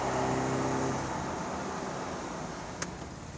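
A 1980 Austin Mini drives with a steady engine and road roar close to the microphone, fading slightly, with a brief sharp click near the end.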